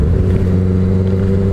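Moto Guzzi V7 Sport motorcycle with a sideways-mounted 748 cc V-twin, its engine revving with a deep, steady, close-up rumble and no talking.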